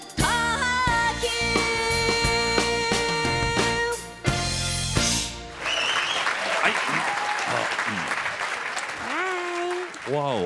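Audience applause and cheering erupt after a song ends on a televised singing competition, following a few seconds of loud music; the clapping stays dense and continuous while voices call out over it.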